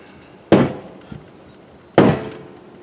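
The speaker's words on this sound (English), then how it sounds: "Should probably give my shovel a little smack." Two sharp, loud smacks of a stainless steel shovel knocking off dirt, spaced about a second and a half apart, with a faint lighter knock between them.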